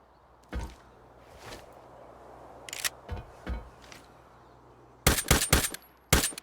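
A budget G17 pistol fires in the video game Arena Breakout. Single shots crack sharply at uneven intervals, and then a quick burst of four or five shots and a final shot ring out loud and close.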